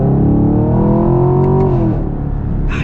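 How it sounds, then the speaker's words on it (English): A 2021 Chevy Camaro SS Redline Edition V8 accelerates hard, its loud, close engine note climbing steadily in pitch before a brief drop as it shifts, with a deep throaty rumble throughout. "we can get one more acceleration for you guys"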